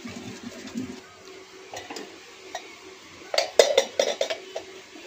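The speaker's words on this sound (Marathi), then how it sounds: "आणि झाकण झाकू ह्याच्यावर." A metal lid goes onto a pan of pav bhaji masala frying in oil. Soft clinks and scrapes lead up to a louder cluster of metallic clatters near the end, close by with no talk.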